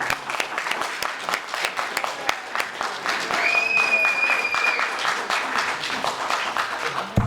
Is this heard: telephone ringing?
no